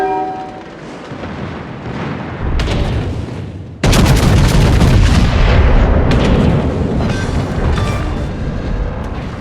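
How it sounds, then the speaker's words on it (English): In the World of Warships naval game, an enemy destroyer explodes amid loud, booming artillery fire and rumbling blasts that swell into a sustained, heavy roar. "Enemy destroyer blown up."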